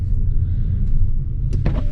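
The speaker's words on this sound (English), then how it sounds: "running a car with over 520 cubic inches like that, that thing is loud" A loud drag racing car with a 520-plus cubic inch engine rumbles with a deep, steady low growl, heard for a couple of seconds without talk.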